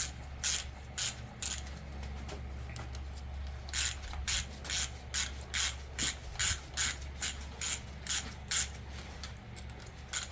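A ratchet wrench loosening injector bolts on a Ford 6.0 Power Stroke engine during a teardown, a close series of sharp clicking bursts in an uneven rhythm, repeated many times with short pauses between strokes.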